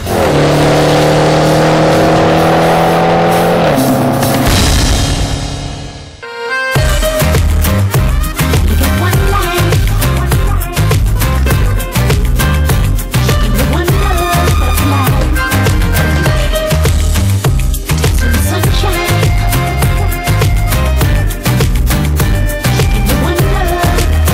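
A Range Rover Sport SVR hybrid driving on a track, its loud engine revving and accelerating continuously up close after a brief quieter passage and a short drop-out.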